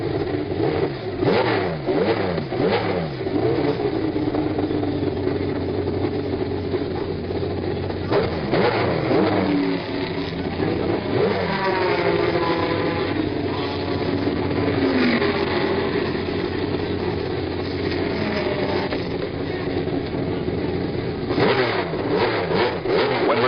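Porsche race cars roar and rev past at the 1970 12 Hours of Sebring, engines swelling and fading in a steady blur of track noise.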